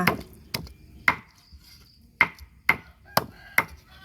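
A cleaver chops frog meat on a board for a holy basil stir-fry, seven sharp, close thwacks in an uneven rhythm with brief quiet gaps between.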